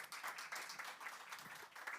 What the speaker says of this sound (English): I'm going to give him a round of applause for being here